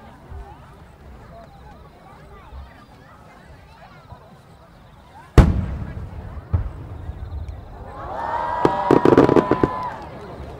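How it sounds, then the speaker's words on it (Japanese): A single loud firework boom bursts midway at the Aganogawa Gozareya festival in 2010, then a crackling cluster of multicolored pops and fizzing sparkles fills the last few seconds over a murmuring crowd. "多数の各花火が複数の色で一斉にバーン開花します。"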